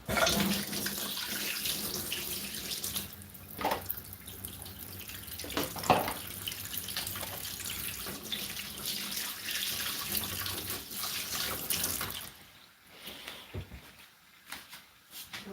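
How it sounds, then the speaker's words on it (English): A kitchen tap runs steadily as hands are washed beneath it, a constant close hiss of water with brief splashing changes, then the flow cuts off and only faint drips and room noise remain. "I'm going to give my hands a wash because I don't like this fishy."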